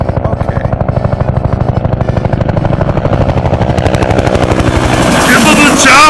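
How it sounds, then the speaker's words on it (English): A helicopter passes overhead during an outdoor filming session, its rotor beating in a steady rapid chop that grows louder and brighter toward the end, with people talking underneath. "We have got a helicopter coming."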